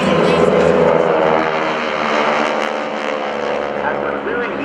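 GEICO Skytypers propeller planes pass overhead in a tight diamond formation at an air show, producing a loud, steady multi-engine drone with layered buzzing harmonics that holds strong throughout and eases slightly toward the end.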